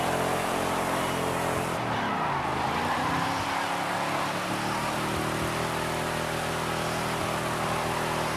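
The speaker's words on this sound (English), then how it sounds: "Let's see how this stock Mustang with the stock engine performs" Stock Ford Mustang with its stock engine in Forza Horizon 5, a torquey, loud, sustained engine roar as the car accelerates, the pitch dipping briefly at a gear change and then climbing again, with no voices.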